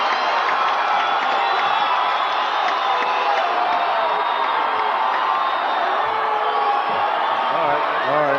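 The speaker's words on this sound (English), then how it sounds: "deafening cheer from the crowd" A deafening crowd roars and cheers continuously at the Chicago Bulls' 1996 championship celebration in Grant Park, with whoops and shouts layered over a dense, steady wall of noise.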